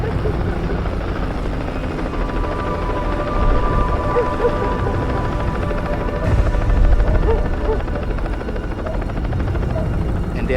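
A helicopter flies overhead with a loud, continuous rotor chop and engine drone that swells slightly at moments, without a break.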